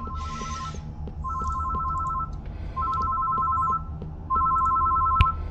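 A telephone rings in the PC game Closing Time: four clear electronic ring bursts in a steady repeating pattern, loud and close over a low ambient hum.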